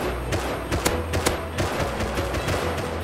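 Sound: gunshots in the Rust video game

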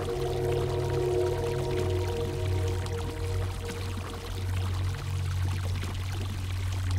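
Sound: water pouring to wash off a ring, from a video game

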